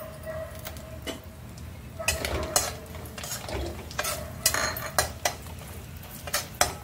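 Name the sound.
frying biuli dal bori in oil, stirring in pan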